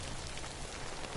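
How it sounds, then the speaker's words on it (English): Timefall rain in the video game Death Stranding makes a brief, steady hiss of falling drops, even and unbroken, with no voices. "Don't stay out in the rain any longer than you have to."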